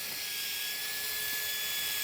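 A drill whines steadily at high pitch as it bores holes into garden soil for planting onions, a continuous near motor hum with faint gritty scraping.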